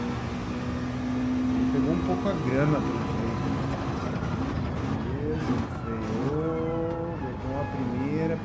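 A McLaren GR.4 race car accelerates in first gear over a kerb at Barcelona in Gran Turismo 7. The engine pitch climbs repeatedly through several gear changes under steady, prominent talking.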